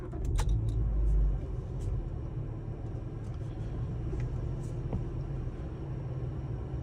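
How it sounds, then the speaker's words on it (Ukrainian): A car on a driving exam route in Kyiv starts up with a short loud low burst and then settles into a steady rumbling idle, with a few faint clicks over the engine drone. "По-перше, ми заводимо наш автомобіль."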